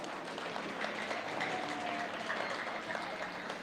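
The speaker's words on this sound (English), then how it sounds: "please give them a huge round of applause as well" Crowd applause at a county 4-H beef showmanship and market steer show, steady mid-level clapping that runs evenly for a few seconds with no voices over it.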